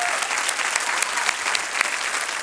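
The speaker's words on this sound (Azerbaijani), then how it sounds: "alqışlayaq" An audience in a concert hall at a televised singing-competition final claps warmly for an ambassador, a continuous, even burst of applause with no break.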